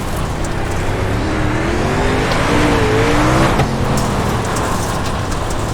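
Dirt super late model race car in iRacing at Weedsport, engine droning loudly and steadily with a brief pitch rise and dip as throttle changes, heard from close by with no talking.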